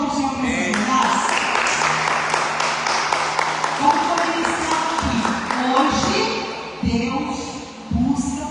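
A church congregation claps during a worship service, a steady wash of applause mixed with voices and background music that rises and dips.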